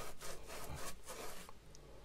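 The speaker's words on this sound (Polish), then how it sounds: "Ścierniwo." Abrasive paper rubs back and forth over a copper heating pipe being cleaned after desoldering, a close scratchy rasp repeating in quick strokes.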